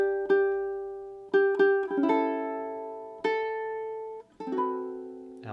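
A ukulele plays a line of a song, a handful of plucked chords spaced unevenly and left to ring out, close and clean, ending on a sustained chord with no voices.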